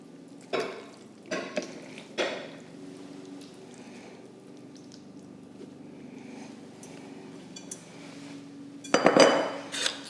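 Cooked food being returned to a sauce pot, with a few scattered utensil clinks and taps against cookware early on, a quiet stretch, then a brief, louder burst of scraping and clanking near the end.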